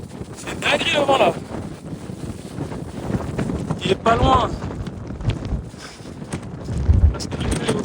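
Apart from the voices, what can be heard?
strong wind on mountain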